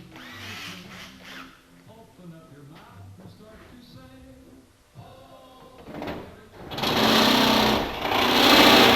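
A power drill bores through the aluminum wing skin of a Zenith 601XL/CH650 kit aircraft, first a quieter whirring, then loud sustained close drilling bursts toward the end.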